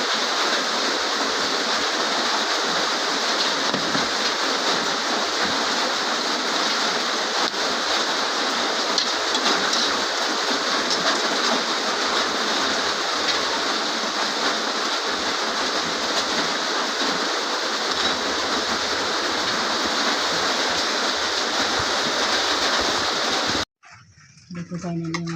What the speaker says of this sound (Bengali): বৃষ্টি হচ্ছে, তাই কথার আওয়াজটা কম শোনা যাচ্ছে